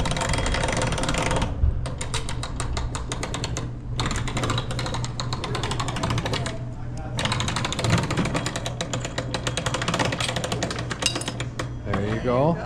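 A souvenir coin press machine is cranked by hand with a quarter inside, giving a long run of dense ratcheting gear clicks and mechanical clatter that stops briefly a few times before carrying on.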